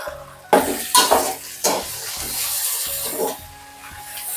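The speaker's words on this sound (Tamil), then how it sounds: "எண்ணெய் கொதிச்சுட்டு வெங்காயத்தை போட்டுக்கொள்வோம்." Chopped onions dropped into hot oil in a pan for a prawn dish, giving a sudden close sizzle followed by a few clattering stirs and scrapes.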